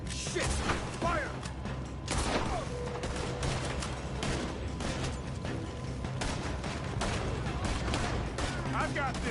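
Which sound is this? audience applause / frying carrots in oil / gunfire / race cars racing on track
gunfire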